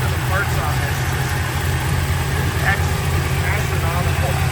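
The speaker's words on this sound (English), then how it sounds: "Engine sounds really good." A 1968 Chevrolet Chevelle restomod with a 383 V8, headers and an automatic transmission idles close by, a steady, even low rumble that holds unchanged throughout.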